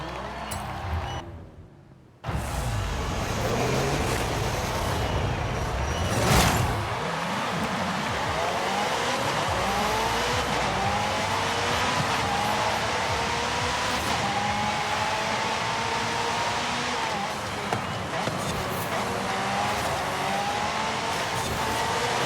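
2008 BMW M3 racing in Forza Horizon 5, an engine roaring and revving through rising and falling gear sweeps, loud and sustained after a brief quiet start.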